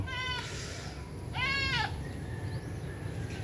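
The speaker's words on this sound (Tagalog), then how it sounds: "Tingnan nyo yung alaga kong kambing mga idol." Two goat bleats, the first short and the second longer and wavering, close by over a low background rumble.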